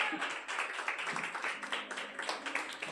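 Congregation applauding at a church sermon, a dense, steady wash of many hands clapping at once, sustained and moderately loud throughout with no voices standing out.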